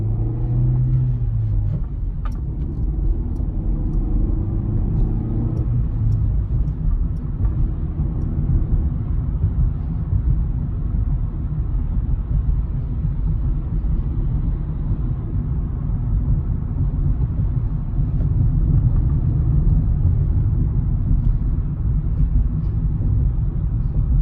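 A 2020 Chevrolet Spark hums and rumbles from inside the cabin while driving through traffic, its low engine drone rising and settling as it moves through the gears, steady and fairly loud with no talking.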